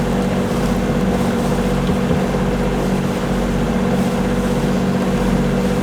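Strong storm wind roars continuously around a boat riding at anchor in gusts near 36 knots, a loud, unbroken rushing and buffeting that fills the whole stretch with no speech.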